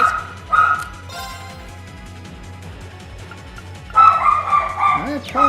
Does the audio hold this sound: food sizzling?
no